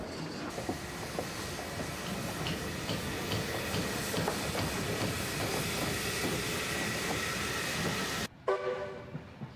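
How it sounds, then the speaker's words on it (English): A locomotive pulling an excursion train in Queensland, Australia rumbles steadily along with broadband clatter and hiss, faint whistle-like tones rising above it, before the noise cuts off abruptly near the end. "Number 6 still pulls special excursion trains on a regular basis."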